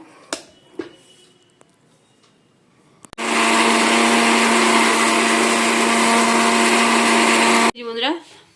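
An electric kitchen mixer grinds ginger, green chilies, dry chilies and salt into a paste, a loud steady whir of about four and a half seconds that follows a few soft kitchen clicks and ends abruptly.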